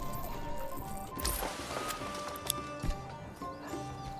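Hooves clip-clop steadily from a horse in the medieval village-building game Manor Lords, with an occasional whinny over a soft ambient game backdrop and no voices.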